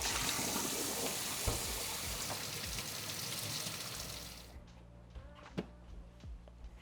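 Tap water runs steadily and close by for several seconds washing developed film in a tank, then shuts off, leaving quiet drips and a couple of small knocks.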